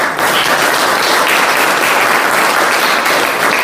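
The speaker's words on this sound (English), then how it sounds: "Let's give them a round of applause." Steady, dense audience applause fills the room at a downtown streetscape community meeting, loud and continuous from start to finish with no talk over it.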